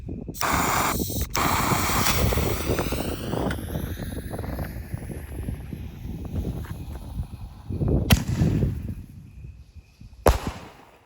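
Consumer fireworks from a $50 assortment, including a willow effect, go off outdoors as a run of crackling bursts and hissing under steady wind noise, with sharp louder pops near the end.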